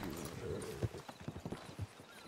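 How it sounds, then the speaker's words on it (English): Horse hooves clip-clop in the video game Red Dead Online, a series of close, irregular hoofbeats with a brief whinny-like tone near the start, heard alone. "Can you get that horse out of here?"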